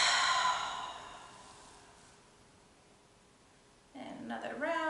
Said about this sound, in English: Take a nice big breath in. Big breath out.